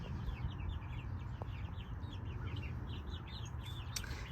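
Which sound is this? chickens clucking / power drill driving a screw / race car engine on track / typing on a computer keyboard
chickens clucking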